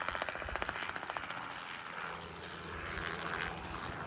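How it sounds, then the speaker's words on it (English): A crop-dusting helicopter sprays pesticide over fields in North Central Illinois, its rotor thumping rhythmically at first and then settling into a faint, distant, steady drone. "I've never seen a helicopter do this."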